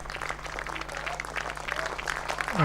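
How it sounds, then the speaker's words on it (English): Spectators clap as two cricket batsmen walk off the field at a club match, a light scattered applause carried in the open air over a steady low hum. "as you see them go off to a good round of applause there"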